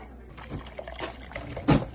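Water pours into black gram flour and is stirred in, a short liquid splashing and trickling burst ending in a louder slosh, close and alone.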